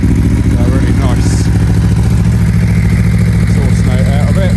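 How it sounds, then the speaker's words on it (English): A 2018 Aprilia Tuono V4 1100 Factory motorcycle on its standard exhaust idles loud and close with a steady, lumpy V4 throb and some mechanical clatter. "Starts nicely, even with a standard exhaust."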